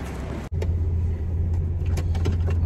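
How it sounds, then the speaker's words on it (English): A car engine idling steadily nearby in a parking lot, a low continuous hum after a brief click at the start, with faint clicks and rustles on top. "About to warm up the car and then go meet them."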